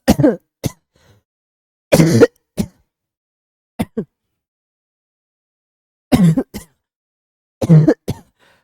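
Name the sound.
coughing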